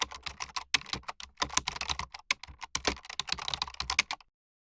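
Fingers tap rapidly on a computer keyboard, a dense run of close clicking keystrokes with uneven rhythm that stops abruptly near the end.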